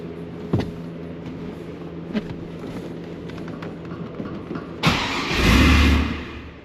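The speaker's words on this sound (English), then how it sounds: "Oh, see, it snuffs out the minute I give it gas." Pontiac WS6 Trans Am V8 with a new MAF sensor and swapped intake, idling roughly then stumbling and bogging as gas is given, ending in a louder rough surge of engine noise near the mic.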